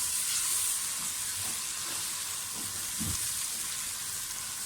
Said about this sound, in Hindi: तो प्याज को अच्छी तरह से फ्राई कर लें,